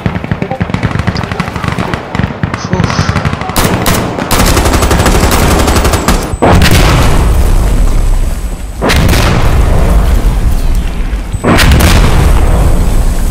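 Heavy gunfire in the first-person shooter Insurgency Sandstorm, loud and near. Rapid shots and bursts build into sustained firing with sharp booming reports, no talking.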